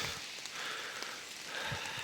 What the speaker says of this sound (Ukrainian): падає дощик. І зараз паде.